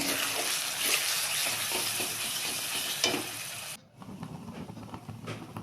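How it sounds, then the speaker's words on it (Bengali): Chicken is stirred in a hot pan with raw spices, grated ginger, salt and turmeric, giving a loud, close sizzle and scraping that suddenly drops to a quieter crackle near the end. "সব কাঁচা মশলা দিয়ে নুন হলুদ এগুলো দিয়ে নেড়ে চেড়ে নেব।"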